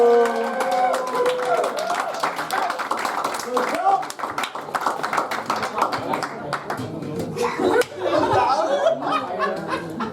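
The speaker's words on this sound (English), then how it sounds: "give a round warm of applause for Emily Santasiero" A comedy club audience at a comedy competition claps and laughs as a comedian is introduced, with mixed clapping, chuckles and crowd noise filling the room over a host's voice.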